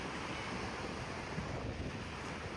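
Ocean waves at Sonapur Blue Flag beach, a steady broad roar of surf mixed with heavy wind buffeting the microphone, continuous and even, with no voices.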